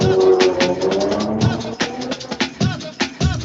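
A sped-up drum break from a song plays as a punchy looped funk drum pattern, with crisp snare and kick hits in a quick, steady groove at a loud level.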